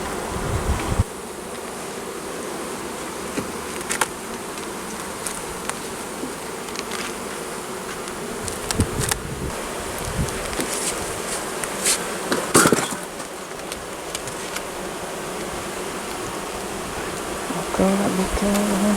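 Honeybees buzzing around an open brood frame full of larvae lifted from the hive, a dense continuous hum close by with occasional knocks and clicks of frame handling.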